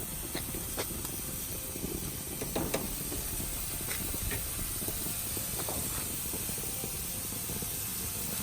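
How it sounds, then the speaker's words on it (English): Beef seekh kebabs sizzle on a grill with a steady, close hiss and crackle, scattered sharp pops and spits standing out above the constant frying noise. "We're gonna start adding the kebabs to the grill."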